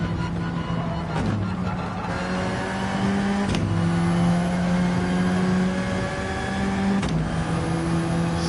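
An Alfa Romeo race car in Gran Turismo 7 drives hard through gear changes, its engine whine climbing in pitch and dropping at each shift, close and loud with no talking.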